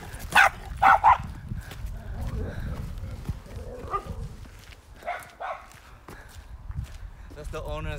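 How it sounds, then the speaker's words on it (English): Dogs at a castle tower property in Drogheda, Ireland, bark in a few sharp close bursts early on, then move around with footsteps and scuffling while people talk nearby. "That's the owner's dogs."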